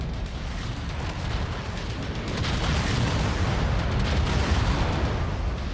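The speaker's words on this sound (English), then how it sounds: "Incoming missile." Missile impacts and explosions in the Mechwarrior 5 Mercenaries mech combat game roll together as a dense, continuous rumble of blasts that swells louder partway through, with no speech over it.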